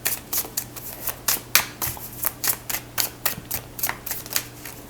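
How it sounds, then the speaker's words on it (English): Taste of Honey oracle cards being shuffled by hand, a close, crisp run of riffling bursts repeating in a steady rhythm, about a dozen quick flutters with no talking over them. "now let's get some Taste of Honey cards. I just love the way these shuffle."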